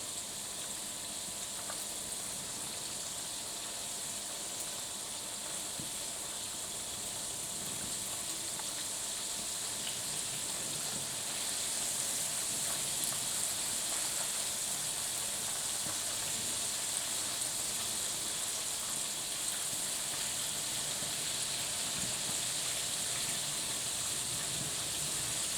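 Chicken goujons frying in oil in a school kitchen, a continuous soft sizzle and hiss with faint crackles, steady and even throughout with no talking.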